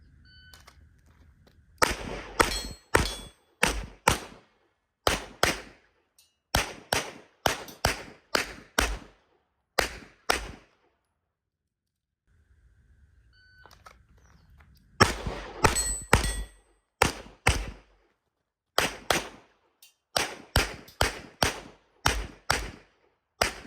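Gunshots hit steel targets on a shooting course, each sharp crack followed by a metallic clang. Two long strings of rapid, close shots are split by a short pause, with no talk over them.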